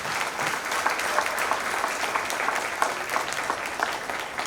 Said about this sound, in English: let's all give Ramir a big round of applause for being chosen